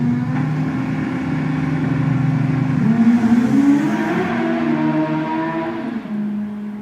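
Drag racing motorcycles, a big turbo bike and a nitrous bike, launching down the strip at a spring nationals event: a loud sustained engine roar with a rising pitch sweep midway, steady and unbroken throughout.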